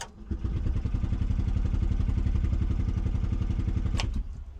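The engine of a 1970 Piaggio Ape MP500 bar truck starts and settles into a fast, rattling, putt-putt idle, close and steady, with a sharp clack near the end and no talking.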